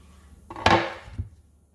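A cutting board is set out on a kitchen counter: a single solid knock as it lands, with a short scrape and a lighter tap as it settles, close and alone.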